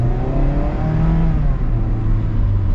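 A new Mazda Miata with an automatic transmission accelerating, the engine note rising smoothly in pitch as it revs up, loud and close inside the car.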